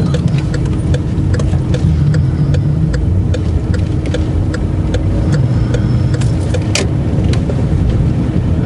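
Manual-transmission car driving with a learner, its engine giving a loud, steady hum with a regular ticking, heard from inside the cabin.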